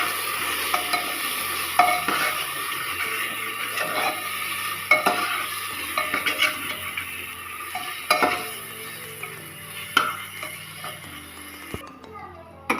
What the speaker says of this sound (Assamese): এতিয়া মই এইখিনি ধুনীয়াকৈ ভাজি ল'ম।